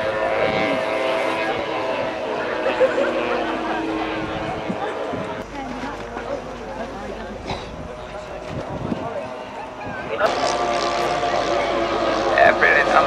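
Piston engines of a Vickers Wellington bomber drone overhead at an airshow, a steady distant rumble with shifting tone, mixed with crowd noise and people talking nearby.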